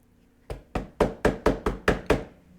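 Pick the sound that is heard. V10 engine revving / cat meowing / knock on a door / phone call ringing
knock on a door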